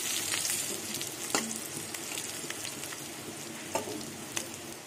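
Steady crackling sizzle of eggplant slices frying in hot oil, with a few sharp clinks of a utensil against the pan.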